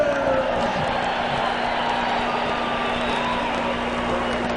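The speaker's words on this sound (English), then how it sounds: "the cheering of the crowd" Boxing arena crowd cheering steadily through the whole stretch as featherweight Salvador Sanchez is introduced, a dense, loud roar of many voices with a sustained tone running underneath.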